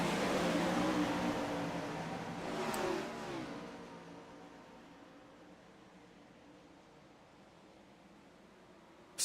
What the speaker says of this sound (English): See if we can't watch these 410 sprint cars come blaring past us